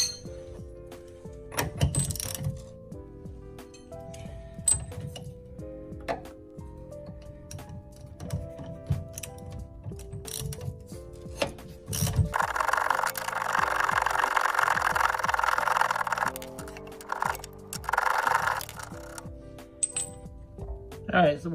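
Hand tools work on spring bushing bolts of a C3 Corvette, making sparse metallic clinks and taps with quiet gaps between them, then a sustained stretch of ratcheting, scraping metal before the clinks resume.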